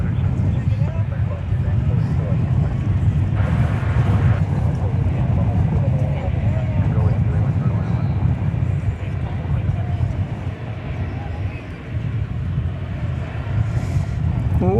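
A jet airliner turns on the ground and takes off at DFW Airport, producing a loud, sustained engine roar with rumbling low tones and wind-like hiss throughout.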